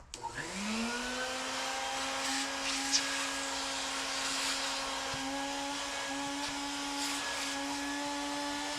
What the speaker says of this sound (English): Now I'm just gonna vacuum around it.